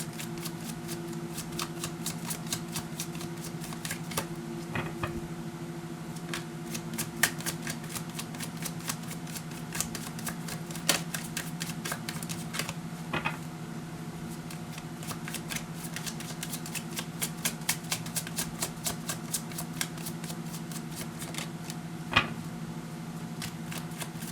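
A deck of oracle cards is shuffled again and again over about 24 seconds, giving quiet riffling and crisp flicks with occasional sharper snaps against a low steady hum, and no talking.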